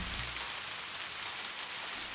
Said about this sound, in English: You stand watching as the rain cleanses away the stress of the day.